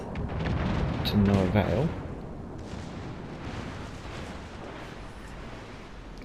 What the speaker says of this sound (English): We will use the front two turrets